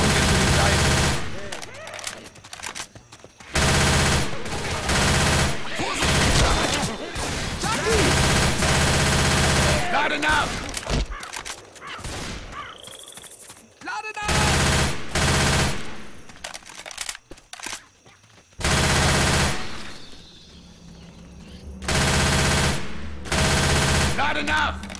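Rapid automatic gunfire from the video game Left 4 Dead 2 comes in loud, sustained bursts separated by short breaks, with some quieter game sounds in the gaps.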